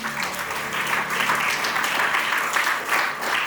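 An audience claps in a steady, full round of applause for a presenter at a cartoonists' memorial event, close and continuous for a few seconds.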